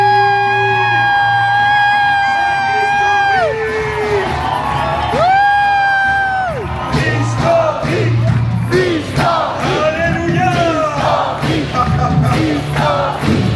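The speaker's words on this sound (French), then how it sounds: "acclamer le Seigneur Jésus pour ces cris de joie?" A church youth congregation at a conference cheers, whoops and shouts with joy, a loud dense crowd roar full of overlapping high yells and cries that swell and fall steadily throughout.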